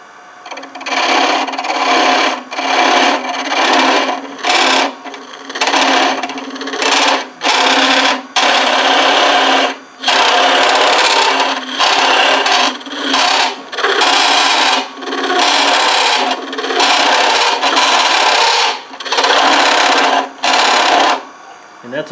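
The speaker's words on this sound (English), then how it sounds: "the chatter that you're hearing is about the distance on this tool, 3/8, that it's about the end, or its max cut." Woodturning tool chatter on a hollow form: a harsh, rasping buzz from a 3/8 tool cut at its maximum reach, loud and close, coming in repeated strokes separated by short pauses.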